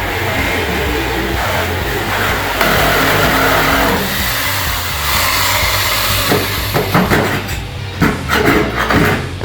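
A Sawzall reciprocating saw cuts through the body of a 1960 Simca Chatelaine car: a loud, continuous, harsh buzzing grind, close by, that roughens into choppier bursts near the end.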